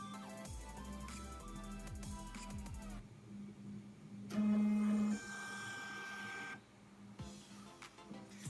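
A Casio SE-S400 cash register prints after a reset, with rapid buzzy printer chatter followed by electronic beeps and quieter whirring, close and with no voices.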